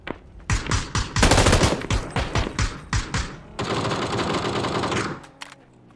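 Machine gun fire in PUBG, loud close bursts of rapid automatic shots with short pauses, followed by a longer sustained stream of fire that cuts off near the end.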